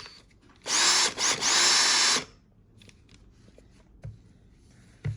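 A Makita DF488D cordless drill-driver whirs at high speed in one loud burst of about a second and a half with a brief dip, followed by faint clicks and handling in a quiet room.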